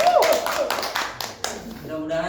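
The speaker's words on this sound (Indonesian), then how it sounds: "Beri tepuk tangan dulu buat" Audience applause during a podcast taping, a short burst of scattered hand claps with voices talking over it.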